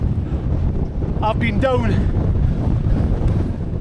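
Strong wind on a 715-metre hilltop in the Cheviots roars and buffets the microphone in a constant loud rumble, with someone briefly speaking partway through.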